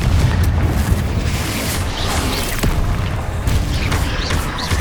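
In the video game Hogwarts Legacy, the Confringo spell explodes with heavy booming blasts, a dense, loud rumbling barrage that goes on without pause, with crackling bursts layered over a deep low roar.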